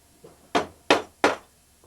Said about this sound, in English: How come you use that round hammer instead of a sledge type?